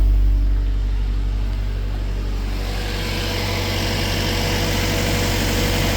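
A Honda VTEC engine swapped into a Mini idles steadily, a close, loud, even low rumble with constant hum and a slight rise in hiss partway through, no voices.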